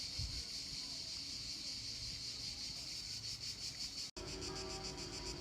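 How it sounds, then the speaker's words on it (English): Cicadas drone in a steady high buzz across gardens in Florence, loud and continuous, with faint background rustle and a brief dropout near the end. "you can hear all the cicadas"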